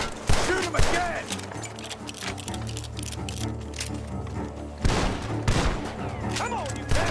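Gunfire in the video game Red Dead Redemption 2, several loud sharp shots in bursts over a low game backdrop, with voices shouting between them.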